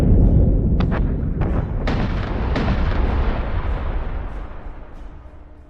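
Secondary battery guns on a warship in Battlestar Galactica Deadlock fire as a dense barrage of heavy booming shots with sharp transients in the first two seconds, then a long rumbling roar that slowly fades.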